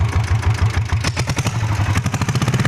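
A Royal Enfield diesel Bullet motorcycle runs with its silencer removed, a loud, rough, rapid thumping idle with dense clattering beats that stay close and unbroken, and no voices.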